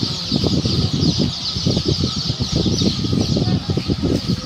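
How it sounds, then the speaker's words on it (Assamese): Domestic duckling chicks chirp continuously in a dense, steady chorus at a poultry hatchery, close and loud with no talking. "এইটো আছে পাতি হাঁহৰ পোৱালি।"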